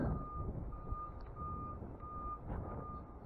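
A tow truck slowly reverses into position at an impound job, its backup alarm sounding a steady series of evenly spaced beeps over a continuous low diesel engine rumble.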